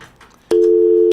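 After a radio call-in line drops a local caller, a telephone busy signal sounds: one loud, steady electronic beep of about half a second, starting abruptly after faint background noise.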